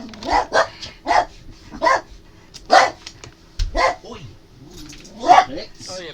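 In a video game, dogs let out a series of short, sharp barks in an uneven rhythm, about seven or eight in all, fairly close and loud, with someone talking between them.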